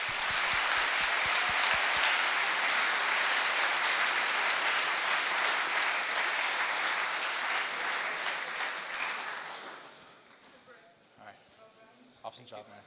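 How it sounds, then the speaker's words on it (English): A hackathon closing-ceremony crowd gives winning team Orca a loud, sustained round of applause that fills the room for about ten seconds before fading into scattered claps and quiet. "Let's just have a huge round of applause for Orca"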